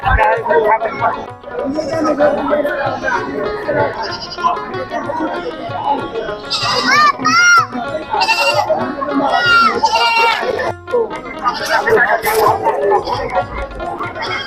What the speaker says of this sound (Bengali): এই হাটে প্রচুর ছাগলও বিক্রি হয় দেখেন